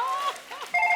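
A short electronic phone ringtone plays, with tonal beeps that pause briefly and then resume more loudly, on the Kapil Sharma comedy show.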